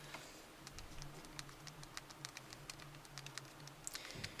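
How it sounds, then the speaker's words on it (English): Rapid, light clicking of keys on the small hardware keyboard of a Verizon Palm Treo 700w phone, close up, in an uneven quick rhythm over a faint steady hum. "let's try this keyboard and see how quick it is"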